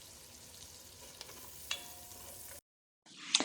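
Onions sprinkled with salt sautéing in a pan for tomato soup: a soft, steady sizzle with a few faint clicks of stirring, broken by a short silence before the frying resumes more loudly.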